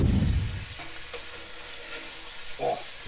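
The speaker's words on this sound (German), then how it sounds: "Die braten wir mal hart an." Spicy thick beef ribs sear hard in a Dutch oven for barbecue, giving a steady close sizzle and crackle throughout, with a louder burst at the start and a few clattering touches of utensils or meat being moved.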